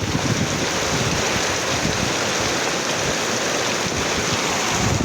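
Heavy rain pours down outdoors in a dense, unbroken roar, loud and close, with a rough, windy rumble and no pauses or voices.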